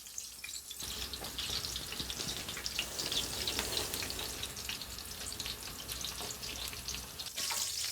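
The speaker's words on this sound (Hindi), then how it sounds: "अब ये अच्छे से फ्राई हो गए" Chicken gilafi kebabs fry in oil over a low flame, a dense, continuous crackle and bubbling hiss, close and steady throughout with no voices.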